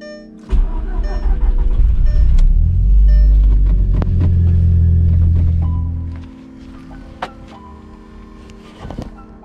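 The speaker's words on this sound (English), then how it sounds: "I think we're ready to start the car." A car fitted with an upgraded 1.8T intake manifold cranks and fires up, a loud close low rumble that swells for several seconds and then settles back, followed by quieter clicks and shop noises.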